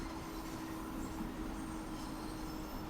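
Train traffic rumbles steadily around Frankfurt in Train Sim World 5, a continuous low railway hum with a faint tonal whine, moderately quiet and unbroken, no voices.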